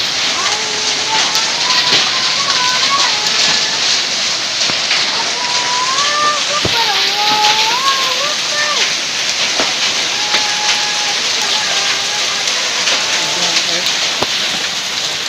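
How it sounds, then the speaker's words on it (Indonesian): Hail pours down hard with strong wind in Sukaraja, Urug, Tasikmalaya, a dense, continuous rattling roar. Whistling, chirping tones and scattered voices sound through it. "Hujan es."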